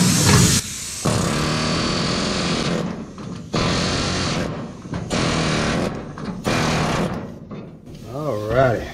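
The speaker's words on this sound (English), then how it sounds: "Now to the very last weld." Welding the final seam on a custom truck bed for a 1966 Chevy one-ton dually, with several sustained buzzing, crackling arc bursts of a few seconds each separated by short pauses, loud and close, followed by brief speech.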